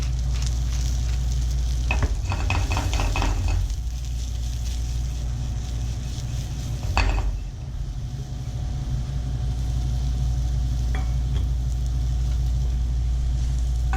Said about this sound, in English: Now we're going to mix them around a little bit, saute them until they are no longer raw.